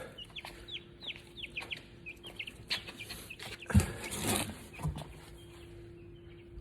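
Several chickens cluck in short, scattered bursts while rounded up near a workshop, with a rooster-like call rising in the middle against a steady low hum.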